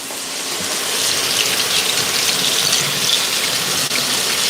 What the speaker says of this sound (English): I'm gonna need to wash my hands